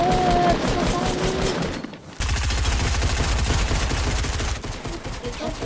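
Rapid gunfire in the video game Fortnite, a dense stream of shots that drops out briefly near the middle and resumes just as heavily, loud and continuous with game sounds underneath.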